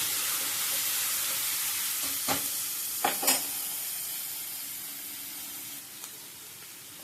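Onions sizzling and frying in a pan with salt added, a continuous bright hiss broken by a few sharp stirring scrapes and clacks from the spatula.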